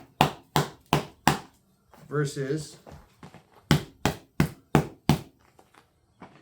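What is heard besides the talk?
knocking on rigid Muay Thai shin guard padding, comparison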